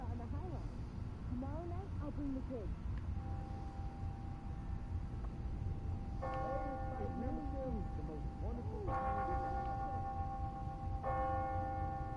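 Church bells in Marvel's Spider-Man: Miles Morales ring out in a series of clear, resonant tolls, layered over a steady background hum and quiet ambient game sounds.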